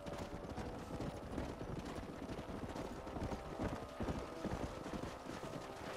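Horse hooves clip-clopping steadily in the Red Dead Redemption video game, a continuous rhythmic trot heard up close at moderate loudness with no talking.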